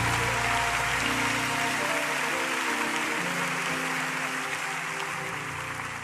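A church conference congregation applauds in a dense, sustained roar of clapping that holds steady and tapers slightly toward the end, with musical tones underneath.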